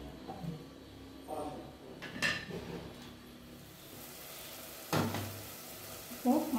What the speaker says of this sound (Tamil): இதில் கொஞ்சம் நேரம் கொதிக்கட்டும்.